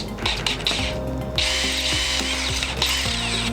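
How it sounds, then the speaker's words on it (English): A power drill whines loudly while drilling carbon fiber, its motor pitch dipping and rising as it bites into the material, running continuously with brief changes in load. "especially when you're drilling carbon fiber"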